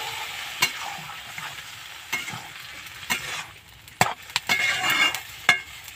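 Water splashed into frying food in a pan makes a close sizzle under repeated sharp scrapes and knocks of a spoon stirring against the pan, irregular and busy with no talking.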